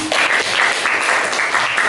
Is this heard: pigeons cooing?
no